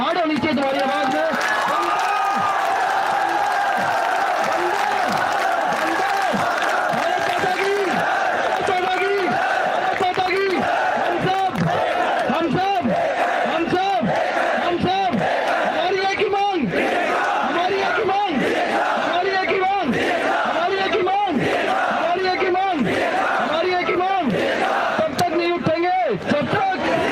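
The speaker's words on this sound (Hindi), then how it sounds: "इतनी जोर से तालियां भी बजनी चाहिए और इतनी जोर से दहाड़ होनी चाहिए तुम्हारी आवाज में" A large crowd at an outdoor gathering claps in a steady rapid rhythm and roars loudly, the cheering and chanting voices continuous and close throughout.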